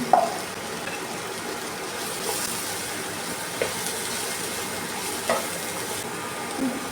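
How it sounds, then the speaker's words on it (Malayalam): Brinjal sautéing in a pan for a Kerala thoran, a steady soft sizzle and hiss with occasional stirring scrapes, close and even throughout, with no talking. "ഇങ്ങനെ ഇത് ചെറുതായിട്ടൊന്ന് വഴറ്റിയെടുക്കാം. ഇനി എടുത്ത് വെച്ചിരിക്കുന്ന വഴുതന ഇതും ഇട്ട് കൊടുക്കാം."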